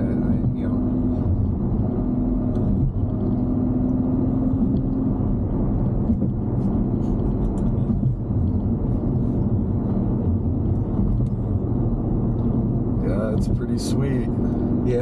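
Steady, loud engine rumble and road noise fill the cabin of a Ferrari GTC4Lusso cruising near Ketchum, Idaho, continuous throughout, with brief higher-pitched clicks near the end.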